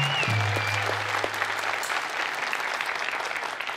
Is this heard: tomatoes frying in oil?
no